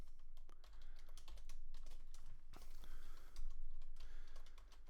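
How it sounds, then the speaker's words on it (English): Typing on a computer keyboard while entering Python code, a rapid stream of close key clicks with short pauses between bursts and no one speaking. "You can see I have to type all of this out"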